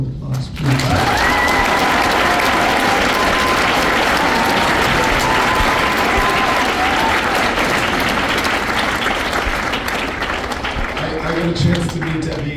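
Audience at a recognition event breaks into sustained, dense applause for about ten seconds, loud and steady, then fades as a voice and a few cheers return at the end.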